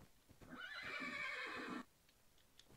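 A Minecraft horse lets out one long, loud whinny that lasts over a second, with faint clip-clop and ticking sounds before and after it and no talk.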